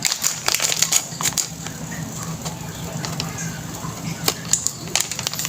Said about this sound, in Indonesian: Kita buka nih kopi nih